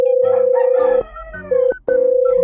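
Roosters crow loudly and close, overlapping a steady, pulsing electronic tone that stops and starts twice.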